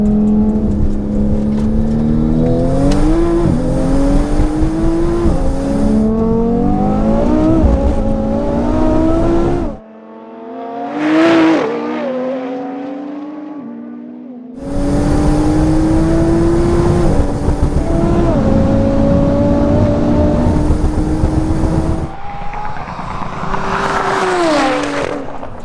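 An Audi RS3 tuned to 1016 bhp and a 1000 bhp Porsche 911 Turbo S drag race on a street strip, their engines roaring loud and close as they climb through the gears, with a brief quieter gap before a second hard run.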